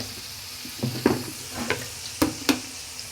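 Onion paste sizzles and fries in a pan for a hilsa fish curry, a close, steady crackle punctuated by several sharp scraping stirs.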